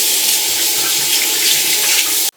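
A bathroom tap runs at full flow into a sink for face washing, a loud, close, steady hiss of water that stops abruptly at the end.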